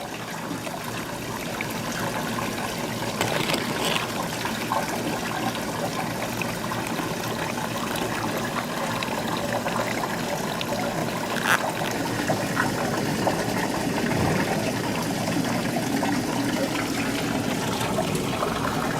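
Water trickles and burbles continuously at a steady level through a sand model, a close, even flow with no voices.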